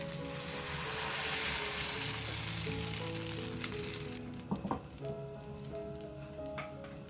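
Poha dosa batter spread straight onto a hot pan without oil gives a steady, soft sizzling hiss that gradually thins out. A few light clinks and taps of the ladle come in toward the end.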